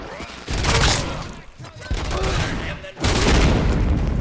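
Gunfire in the shooter game Robocop: Rogue City comes in loud, dense bursts of rapid shots with a short lull between them. A voice speaks under the noise.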